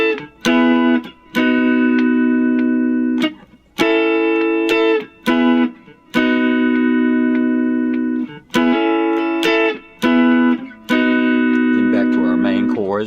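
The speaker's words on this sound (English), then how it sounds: "Next, we'll go to the chords that back up the guitar solo," Electric guitar chords backing the guitar solo of a song, strummed in sustained, rhythmic bursts with short gaps, close and loud with effects, played alone without talk.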